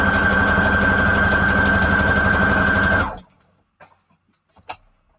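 A sewing machine stitches along the edge of a photo for a junk journal, running as a loud, steady whir for about three seconds before stopping abruptly, followed by a few faint handling clicks.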